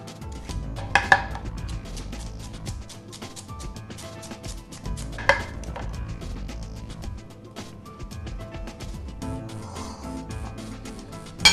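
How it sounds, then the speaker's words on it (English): A carrot is peeled in a home kitchen while a vegetable soup is made, with steady rough scraping strokes at close range and a few louder knocks of the peeler and carrot against the board or pan. "one carrot. We'll peel it."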